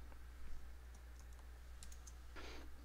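Faint keystrokes on a computer keyboard, a short scattered burst of quiet clicks against a steady low hum.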